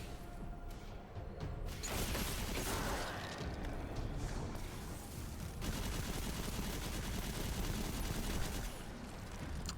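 Fusion rifle fire in Destiny 2, loud and dense, with bursts of shots, booms and mechanical clatter running almost nonstop, joined by other game action.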